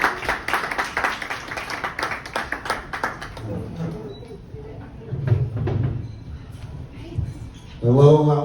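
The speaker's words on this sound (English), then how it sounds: "while you're applauding, keep it going" An audience at a comedy club applauds with dense clapping for about three seconds, then quiets. Scattered claps and a presenter's voice over the sound system follow, and a performer begins speaking at the end.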